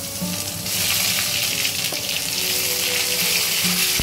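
Ginger paste frying in oil in a pan, a loud, steady sizzle that swells after the first half-second, with occasional clinks and scraping stirs throughout and no talk.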